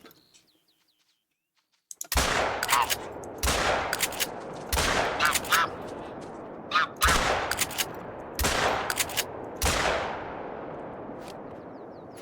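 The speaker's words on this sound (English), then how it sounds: "So we're going to go ahead and we're going to start blasting." Rapid shotgun blasts at geese in the hunting game theHunter: Call of the Wild, roughly eight loud booming shots in quick succession with trailing echoes, after a brief quiet start with faint bird calls.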